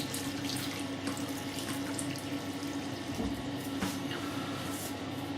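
Tap water runs steadily into a 30mm Finest badger-hair shaving brush with a horn handle, a close, constant splashing hiss at the sink with no pauses or speech.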